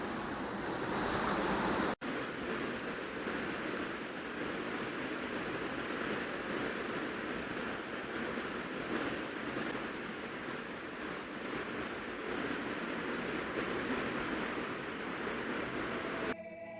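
Loud, continuous rushing of a stream flowing steadily through an old tunnel built of large stones. The roar is even and broadband, and one brief dropout comes early.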